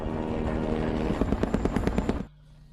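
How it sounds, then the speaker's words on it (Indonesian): A helicopter in a movie scene drones loudly, its rotor chop pulsing in quick, rhythmic thumps before the sound cuts off abruptly to near quiet. "helikopter."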